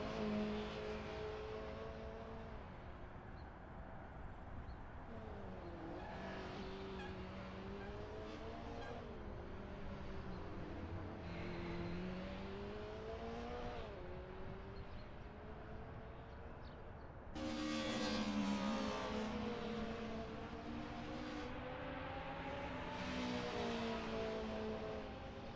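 A 2000s DTM race car in Assetto Corsa runs a practice out lap at Silverstone, its engine droning steadily and sweeping through rising and falling gear pitches before a louder surge of revs late in the lap.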